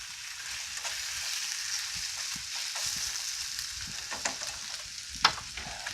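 Chicken pieces for kung pao sizzle in a pan over low heat, a steady frying hiss with occasional scraping and clicking as the meat is stirred, close and without talk.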